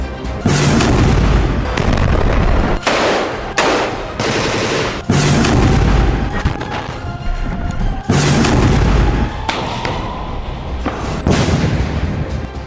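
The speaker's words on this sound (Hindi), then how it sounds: "एयर स्ट्राइक, टैंक से बमबारी, सुरंग में घुसकर हमास के लड़ाकों के खिलाफ ऑपरेशन।" Heavy bombardment in Gaza from air strikes and tank fire: loud, dense bursts of booming blasts and rapid gunfire, repeating in waves with brief gaps, close and dominant with no talk.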